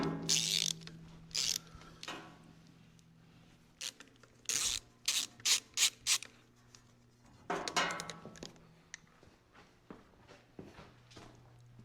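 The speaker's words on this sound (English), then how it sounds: "I'm just working on getting the two bolts loosened up here for the starter." A hand ratchet works on the stuck starter bolts of a John Deere 70 tractor during engine removal. It gives repeated bursts of clicking pawl strokes, separated by pauses, shuffling and soft mechanical rubbing, with no talk.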